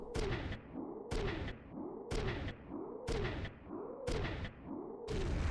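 Repeated explosions in the tactical mech game Front Mission 3, six heavy booming blasts at a steady rhythm about one second apart, each with a sharp crack and falling rumble, loud and alone.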